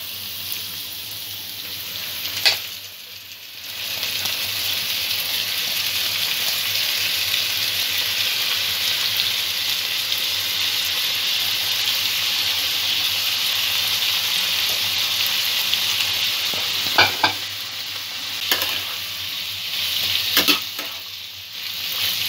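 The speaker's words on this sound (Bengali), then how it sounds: "তেলের সঙ্গে চালটা একটু নাড়াচাড়া করে নেব।" Soaked rice stirred in hot oil for carrot pulao, a loud continuous sizzle broken by a few scraping stirs and clatters from a spoon against the pan.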